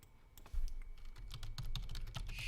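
Computer keyboard typing in a quiet indoor setting, a run of quick, uneven key clicks that starts softly and turns steadier and louder midway, close to the microphone, with no talking.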